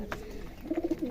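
A pigeon nearby coos in a short, soft run of four or five low, rhythmic notes against quiet background noise.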